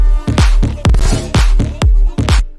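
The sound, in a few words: unmastered remix track playing in FL Studio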